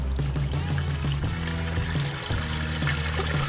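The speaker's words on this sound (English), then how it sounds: "The birth of a new waterfalls." A newly built koi pond waterfall switches on and begins to flow, giving a steady close pouring and splashing of water that continues without a break, with low rumbling underneath.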